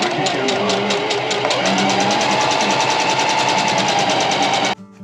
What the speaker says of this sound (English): So I'm going to sew down there and sew down there the whole length.